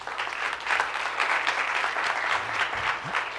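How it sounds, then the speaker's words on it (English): An audience claps steadily after a lecture on cross-cultural communication, a dense, moderately loud round of applause from a room of people. "let's give him a round of applause for today"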